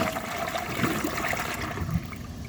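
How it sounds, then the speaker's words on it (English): 2004 Crane Sureflush toilet flushing with a dry bowl, a rushing, gurgling surge of water that churns steadily for a couple of seconds, heard alone at close range. "for the first flush test, let's see how it flushes with a dry bowl"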